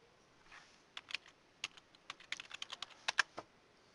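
Password being typed on a computer keyboard: a run of crisp, close key clicks in an uneven rhythm with short pauses, over quiet room hiss and no talking.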